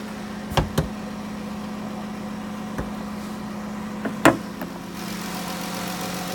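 A 3.8 liter V6 in a 2017 Dodge Grand Caravan GT idles steadily under the open hood, a low constant hum broken by a few sharp knocks and clicks nearby.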